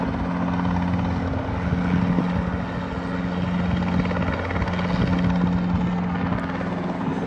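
An air-taxi aircraft taking off near a row of airport hangars, heard as a steady, loud droning engine hum with a constant tonal buzz and no speech.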